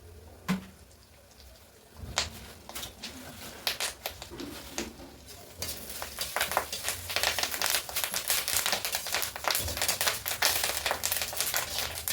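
Curry leaves hit hot oil with urad dal and burst into loud, dense crackling and spattering pops that build and keep going close by.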